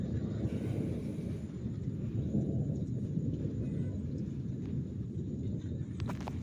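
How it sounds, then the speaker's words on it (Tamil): Thunder from a thunderstorm in Erode rolls as a continuous deep, low rumble that stays steady and fairly distant throughout, with no rain or voices standing out above it. "இடியும் இடிச்சுக்கிட்டே இருக்குது"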